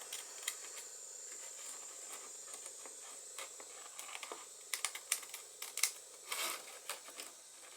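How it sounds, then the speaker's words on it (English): Pinking shears snip along the bottom edge of a sheet of paper in a run of crisp, clicky cuts that grow denser and louder toward the end, with a faint steady hiss behind them. "I'm going to use my pinking shears and cut along the bottom of this"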